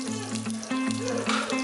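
Curry leaves and crushed garlic dropped into hot oil with mustard and cumin seeds for a dal tempering, giving a steady close crackling sizzle with a low hum underneath.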